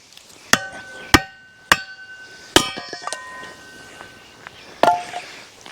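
A hammer strikes firewood on a steel kindling cracker in four or five sharp, ringing metallic blows spaced about a second apart, close and loud, with faint clinks between hits.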